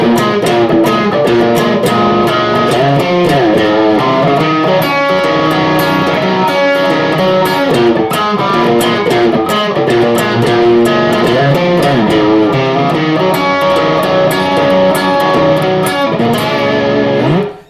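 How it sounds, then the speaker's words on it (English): An electric guitar plays a fast, distorted rock riff with dense, rhythmic chugging notes that stay loud and continuous throughout, with no voices. "So basically, the riff we're going to learn sounds like this."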